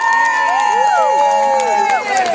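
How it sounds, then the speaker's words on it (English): An audience at a rat basketball game cheers and applauds both rats after the final, a brief, loud burst of crowd noise with excited voices over clapping. "Let's give both of our rats a big round of applause."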